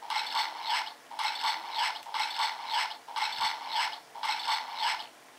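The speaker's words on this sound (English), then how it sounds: "That's the sound where the DenGasher's on standby and the weapons are being assembled" A DX DenGasher toy from Kamen Rider Den-O plays its standby and weapon assembly sound, a looping electronic ratcheting, whirring pattern repeating about six times in even pulses, close and moderately quiet.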